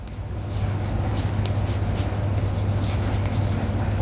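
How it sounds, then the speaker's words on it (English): Writing a formula by hand, with faint repeated scratchy strokes over a steady low background hum, close and quiet. "let's write down the formula 1."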